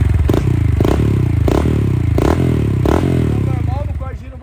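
A Honda XRE 190 motorcycle with a modified, very loud exhaust idles and blips its throttle nearby, giving a steady rough rumble with several rhythmic revs before it settles.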